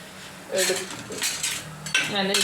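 Fried goli bajji lifted from hot oil with a metal slotted spoon, close scraping clinks against the pan over a soft background sizzle, in two or three quick scoops.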